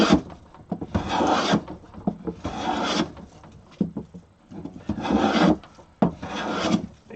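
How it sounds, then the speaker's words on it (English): A hand plane shaves wood down to a marked line while a Lund stool is made, sounding as four long rasping strokes with short quiet gaps between them, close and clear with no talk. "basically, at this point, just planing again up to the line."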